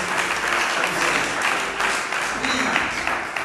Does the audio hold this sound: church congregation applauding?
yes